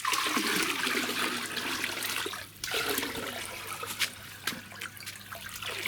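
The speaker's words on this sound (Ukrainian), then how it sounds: "Тепер оце відро беремо і виливаємо сюди." A bucket of yeast fertilizer solution is poured out in a garden, giving a close, steady splashing gush of liquid that tapers into trickles and a few drips.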